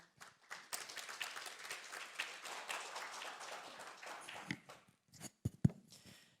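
Conference audience applauding to welcome a presenter at a Korean digital society policy session, a dense stretch of many hands clapping that thins into a few scattered, louder claps near the end.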